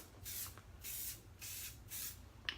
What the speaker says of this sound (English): So we're going to spray her again.